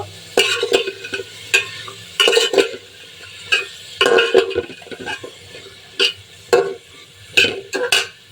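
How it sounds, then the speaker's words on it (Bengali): Spiced vegetables with chili, onion and garlic fry in a pan, with a soft sizzle under repeated sharp scrapes and clinks of a spatula stirring at an uneven rhythm. "এখন আমি এটাকে একটু ভালোভাবে ভেজে নেব"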